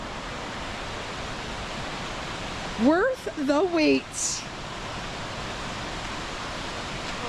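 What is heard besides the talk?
waterfall, Mok Fa Waterfall in Pai, Thailand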